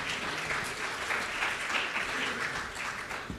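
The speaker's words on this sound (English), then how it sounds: "give a big round of applause for Paweł Kurtasz?" Audience applause fills a congress hall in Miami, a dense, steady clapping from a large crowd that holds at an even level throughout, with a few faint voices underneath.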